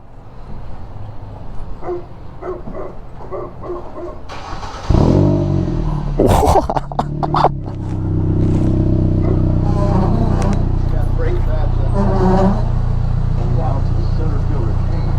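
A 2009 Stallion trike's engine starts up and revs loudly while the machine is backed out, rising over an earlier idle and clatter, with people talking nearby throughout.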